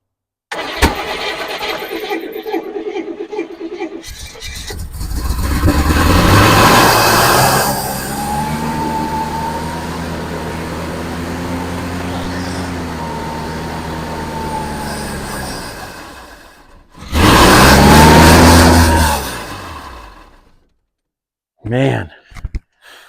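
A 1971 Buick Skylark with a leaking carburetor cranks, catches and runs roughly with wavering revs for several seconds, then dies. A second loud cranking burst follows, with brief voices around it.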